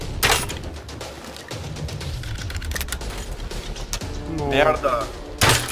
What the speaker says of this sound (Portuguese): Ai, ele tá atirando em mim.